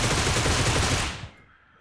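A Groza assault rifle in PUBG Mobile emptying its magazine in one loud, fast, unbroken automatic burst that cuts off abruptly, leaving a short fading tail.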